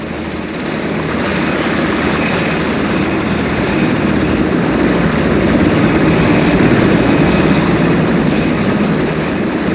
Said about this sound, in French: Voici le Sikorsky Sea King qui débarque les vainqueurs de l'espace sur le tapis rouge